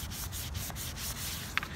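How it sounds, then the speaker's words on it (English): Sandpaper rubbing over the smooth painted surface of a tank sprayed with spray-can paint, a steady close scratchy back-and-forth with a few stroke pulses and one sharper scrape near the end. "when you're sanding it"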